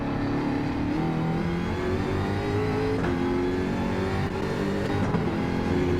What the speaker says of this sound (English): Short shifting going on.